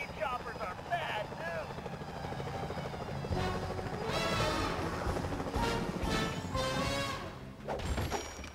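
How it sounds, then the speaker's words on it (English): Security helicopters in the video game Sly Cooper: Thieves in Time give off a steady whirring rotor drone under game music and effects, with talk over it. "Careful, Fly. Those security choppers are bad"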